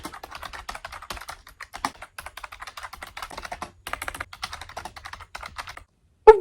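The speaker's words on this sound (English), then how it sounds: "Why am I so aggressive when I type?" Fast, forceful typing on a computer keyboard, close and steady, dense runs of clacking keystrokes with short pauses, ending in a louder thump.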